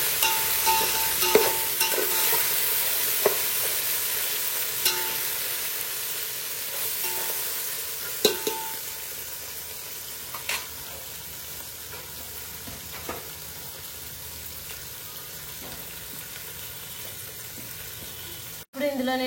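Vegetables softening in hot oil in a pan, with coarse salt just added, give a steady low sizzle throughout, broken by a few sharp clinks and scrapes of a spoon against the pan.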